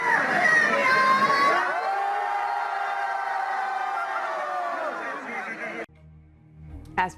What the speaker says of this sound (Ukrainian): Одна з перехожих вигукнула Свобода, інші підтримали.